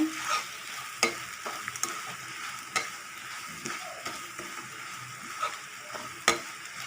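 Coconut mixture for uppu urundai sautés in a pan, a soft continuous sizzle broken by sharp scraping knocks of a spoon stirring against the metal at irregular intervals.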